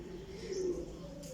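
A Kasuri pigeon coos nearby, one soft, low rolling call rising in the middle, faint and alone.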